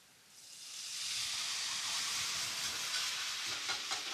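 Butter, garlic and red wine in a hot pan burst into a loud, steady sizzle and hiss that swells within the first second and holds, with scattered pops and crackles near the end.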